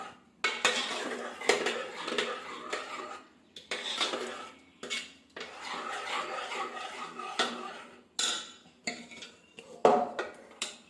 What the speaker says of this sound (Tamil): இதை நல்லா ஒரு கரண்டி வச்சு மசிச்சு எடுத்துக்கலாம்